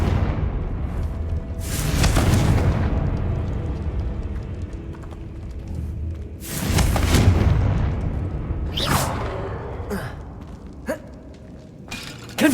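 Confringo fire spell in the video game Hogwarts Legacy, several loud blasts spaced a few seconds apart, each bursting and fading, with smaller impacts and pops between them.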